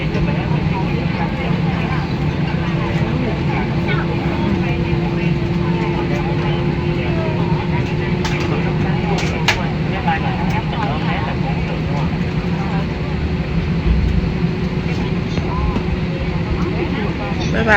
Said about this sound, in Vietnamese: Máy bay chuẩn bị cất cánh này nha,